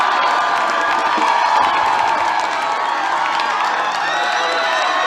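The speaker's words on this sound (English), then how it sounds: "It's good to see the crowd going crazy." A high school football crowd at a Baldwin Bulldogs versus Bishop Ward Cyclones game cheers after a touchdown, a loud sustained roar of voices and shouts from the stands, steady throughout with no clear speech.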